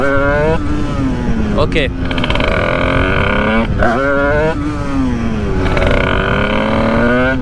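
Motorcycle engine revving hard during wheelie practice, loud repeated throttle blips rising and falling in pitch, close to the rider, with a brief word spoken over it.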